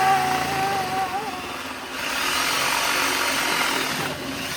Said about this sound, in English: it's time to drill